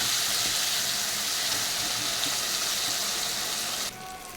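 Ginger and green chili sizzling hard in hot oil for a Bengali rohu fish curry, a steady loud hiss that drops suddenly quieter near the end.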